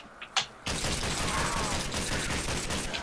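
Pistol fire in a custom Nazi Zombies video game, a short pair of clicks followed by a sustained dense burst of shots and echo, loud and close.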